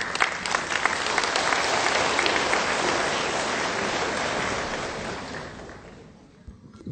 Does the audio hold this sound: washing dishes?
no